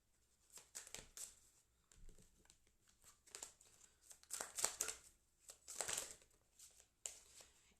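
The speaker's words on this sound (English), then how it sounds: "You're going to hear some loud shuffling for a while." Tarot cards are shuffled loudly and steadily, with papery crinkling riffles and bursts that grow denser in the middle, close to the listener and with no talk over them.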